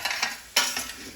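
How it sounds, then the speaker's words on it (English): Onions and garlic gently sautéing in a pan for a vegan trofie primavera, with a soft sizzle punctuated by a few brief stirring scrapes and clinks of utensil against pan. "We've got our onions and garlic gently sauteing here."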